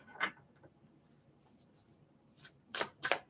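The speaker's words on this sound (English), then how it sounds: "I feel like these need a good shuffle anyway." Tarot cards from a Cozy Witch Tarot deck being shuffled during a live reading, a few quiet rustles early on, then several louder, sharper riffling bursts near the end, with no talking.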